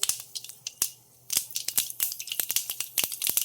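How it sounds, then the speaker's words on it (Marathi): Mustard seeds crackle and pop in hot oil in a kadhai while a tempering is cooked for a simple dal with cabbage. Sharp, irregular snaps come close and rapid-fire, with a brief lull near the middle. "मोहरी चांगली तडतडली पाहिजे हे बघा कशी तडतडते"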